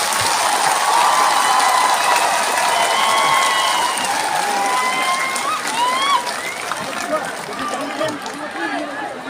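Audience applause at a live event, a dense sustained clapping and crowd noise that stays loud for several seconds then gradually thins, with some cheering voices and whistles mixed in.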